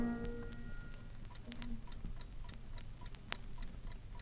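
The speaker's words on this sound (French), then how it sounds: "Sur mon piano, il y a une pendule" A pendulum clock ticks steadily and faintly in a quiet room over low background hum, the evenly spaced ticks continuing without any voice.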